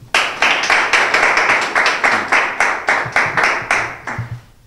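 Rhythmic, evenly spaced group clapping at a rap battle event, loud and close, a steady beat of about three claps per second that slows and thins out near the end.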